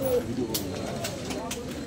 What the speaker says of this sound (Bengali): বন্ধুরা এই সাইডেও কিছু পায়রা আছে,